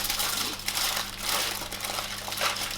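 Tin foil wrapped tightly around burritos, close crinkling and crushing rustles over a low steady hum, with no voices.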